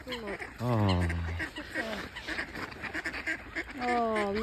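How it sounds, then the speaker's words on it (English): Ducks quacking at a park pond on a snowy day, a loud burst of nasal honking calls close by, then further quacks through the clip alongside nearby talking. "Go see ducks."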